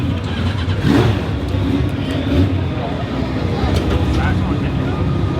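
Motorcycle engine at a race weekend paddock, a continuous mid-pitched engine drone with a rising rev near the start, close and loud, with voices talking over it.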